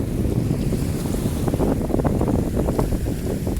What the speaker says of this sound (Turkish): Evet hava rüzgarlı